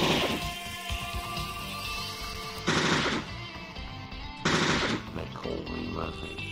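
Gunfire from a RoboCop-style gun in the video game Low-Fi: rapid automatic bursts at moderate loudness, with two louder, sharper bursts standing out among the steady firing.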